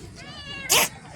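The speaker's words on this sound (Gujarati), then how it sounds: "બિલાડી મળી ગઈ જો." A cat meows once inside a Sai Baba temple hut, a clear, close, rising-and-falling cry lasting about half a second, followed immediately by a brief, loud noisy burst.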